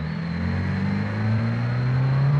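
A van engine hums and slowly climbs in pitch as it revs, a steady mid-range drone heard from inside the vehicle.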